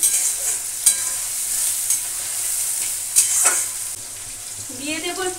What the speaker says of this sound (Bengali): তাই পেঁয়াজ ভাজার সঙ্গে দিয়ে দিলাম একটু চিনি।